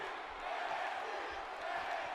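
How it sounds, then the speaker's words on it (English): A wrestling arena crowd in the WWE 2K18 video game chants for NXT, a dense, steady roar of many voices held at an even, moderate level throughout. "And the crowd chanting for NXT."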